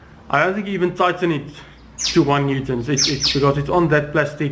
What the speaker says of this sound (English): There's actually 2 birds in this shop at the moment.